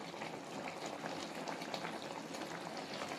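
A Tamil brinjal and chili tamarind curry simmers in the pot, a soft steady bubbling and fizzing heard close but faint, with no voices.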